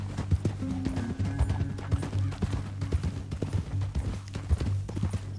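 Steady clip-clop of horse hooves trotting close by in the video game Red Dead Redemption 2, a quick regular rhythm over a low rumbling background.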